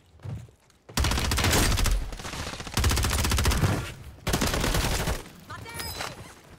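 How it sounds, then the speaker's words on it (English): New SMG in Call of Duty Resurgence on Ashika Island firing in three loud sustained bursts of rapid automatic fire with short gaps between, ending in a fainter trailing burst. "There's the new SMG at work right there"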